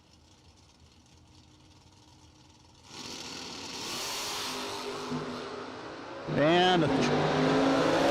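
First-generation and third-generation Camaro drag cars at the American Door Slammer Nationals, engines idling then swelling into a loud, rising roar as they edge forward, with a voice talking over the start.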